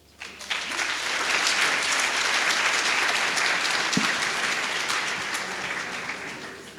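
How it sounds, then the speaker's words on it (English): An audience at a work readiness workshop applauds, with a dense burst of many hands clapping that swells quickly, holds steady for several seconds, then begins to thin out. "Can we give him once more a round of applause?"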